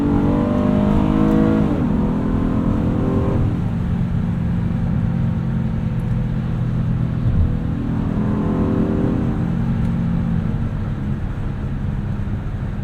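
Engine of a 2026 Honda Odyssey Elite minivan revving hard with VTEC, rising pitch that drops at each upshift into third gear, a steady loud interior drone throughout.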